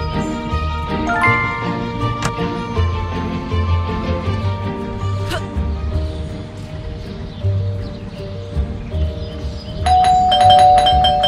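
Doorbell chiming in the video game Scary Teacher 3D, bright tinkling tones that repeat over a busy game soundtrack, with a louder chime toward the end.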